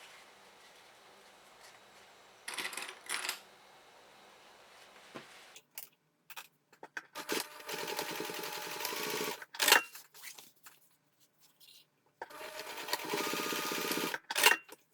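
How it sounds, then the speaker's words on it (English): A sewing machine runs a short seam along a fabric edge in a few quiet whirring bursts, separated by pauses and small handling clicks. "We're going to stitch the short edge using 5mm seam allowance"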